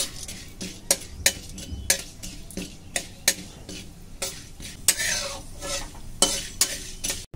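Black mustard seeds and chana dal sizzle in hot oil, with a run of sharp irregular pops and crackles and metal spoon clinks against the pan over a low continuous hiss.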